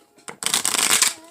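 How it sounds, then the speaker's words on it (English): A deck of tarot cards is shuffled by hand in a quick burst of riffling, papery flutters, close and crisp, with no one talking over it. "I'm gonna shuffle"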